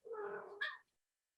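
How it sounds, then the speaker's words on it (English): A cat waking up lets out a single close, drawn-out meow that rises sharply at the end, then cuts off into silence. "I think the cat woke up, Richard."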